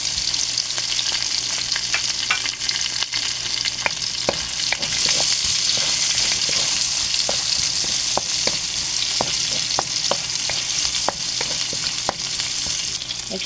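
Chopped onions for lumpiang hubad sautéing in a pan, a steady close sizzle with scattered sharp crackles and occasional clinks of stirring, no voices.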